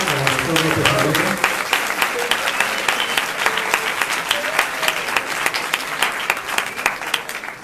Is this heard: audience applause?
yes